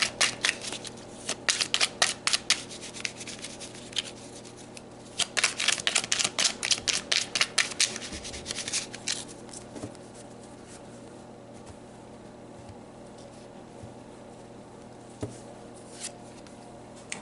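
Tarot cards shuffled by hand in rapid riffling bursts, loud and close for the first eight seconds, then only a few faint card taps and handling sounds over a quiet background with no talk.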